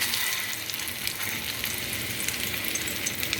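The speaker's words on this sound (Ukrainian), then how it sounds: "на якій налита олія, і обжарюю з обох сторін" Steady, dense sizzling of flour- and egg-coated liver frying in hot oil in a pan, continuous crackle throughout at moderate loudness with no talking.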